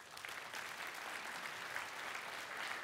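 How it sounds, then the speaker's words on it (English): Audience at a tech conference on open government clapping hands together, a steady dense wash of applause holding evenly throughout without any speech over it. "Just clap your hands"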